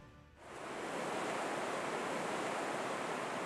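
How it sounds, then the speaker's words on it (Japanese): Waves rolling in an indoor wave pool at a Hokkaido resort, a steady broad rushing wash that swells in after a brief quiet start and holds loud without voices. "波の音いいですね。"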